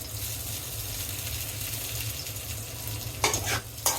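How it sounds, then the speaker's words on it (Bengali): Chopped onions with salt and green chilies frying in hot oil give a steady close sizzle, joined near the end by a couple of scraping stirs of a spatula in the pan. "একটু নেড়ে লবণ কাঁচামরিচ পেঁয়াজের সাথে মিশিয়ে নিব"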